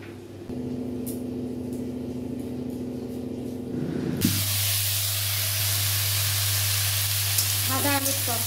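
Luchi, puffed flatbread, deep-fries in hot oil; after a quieter start, a loud, sudden hissing sizzle bursts in and continues steadily, with light crackles near the end.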